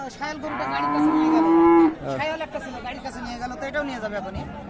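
At a cattle market (haat) in Dinajpur, a cow lets out a loud, drawn-out moo close by, followed by people chattering in the busy crowd.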